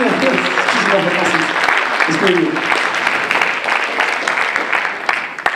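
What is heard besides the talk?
applause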